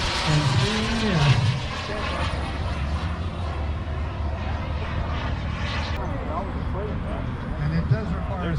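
A turbine-powered RC model jet flies past with a loud, continuous whooshing roar that swells and fades, and a voice talks over part of it.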